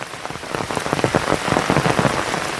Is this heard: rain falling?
yes